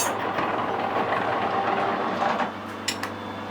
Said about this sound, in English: The lathe's a lot quieter when it's got its metric transfer gears in. Sounds terrible